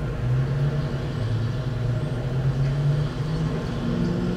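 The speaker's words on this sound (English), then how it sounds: "excuse the background noise, that is my washer and my dryer" Constant low mechanical rumble and hum of a washing machine and dryer running nearby, steady throughout with no breaks.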